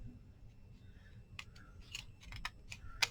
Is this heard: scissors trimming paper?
yes